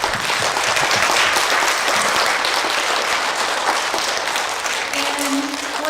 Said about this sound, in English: Clap for Mr. Hamling and Mrs. LaCure for welcoming us to the Kelly School today.